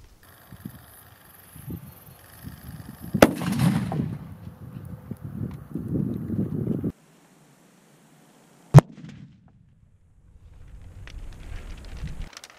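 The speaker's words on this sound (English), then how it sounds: "So let's blow this thing up." A cricket bomb goes off with one sharp, loud bang that cuts off abruptly, set apart by silence from duller, rumbling gusts of outdoor noise before and after.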